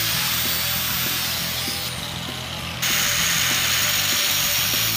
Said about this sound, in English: we're gonna watch my grinder try to eat its safety guard.